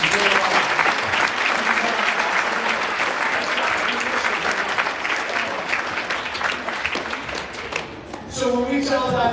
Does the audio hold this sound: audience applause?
yes